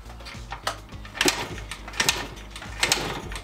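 Repeated kicks on the kick-starter of a 1972 Yamaha DT100 two-stroke motorcycle with the air cleaner off, a series of close mechanical clunks and rattles in uneven rhythm, with no engine catching.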